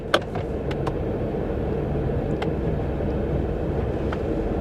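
A 2021 Ford F150 pickup, engaged in 4x4, drives forward and then backward; a steady engine and drivetrain rumble holds at close range with a few sharp clicks and knocks, and no voices.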